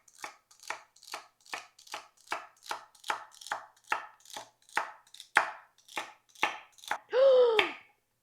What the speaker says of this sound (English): I'm just going to slice the celery.